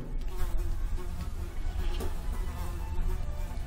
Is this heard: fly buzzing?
yes